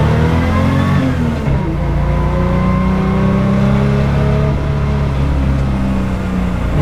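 A restomod Porsche 911's powerful engine revs and accelerates hard on a mountain pass, its pitch climbing through the gears, loud and close with no talking.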